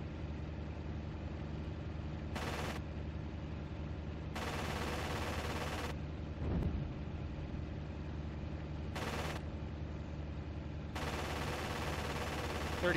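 .30 caliber machine guns fire from a fighter plane in the IL-2 1946 flight sim in several short and longer bursts over a constant droning engine, with no talking.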